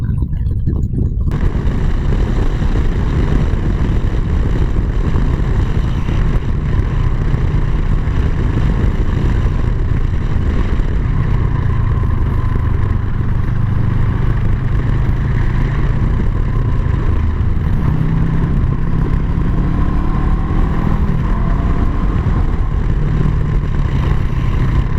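A motorcycle engine drones continuously while being ridden at around 90 km/h, a loud, close, steady rumble with a gentle rise in pitch as it pulls, and wind noise throughout.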